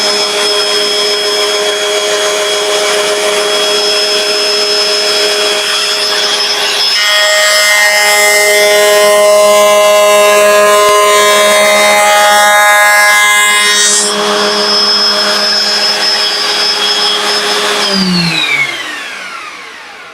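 A router cuts wood on a Gifkins dovetail jig with a continuous high-pitched motor whine, the cutting noise swelling in the middle as the bit bites, then the motor winds down near the end.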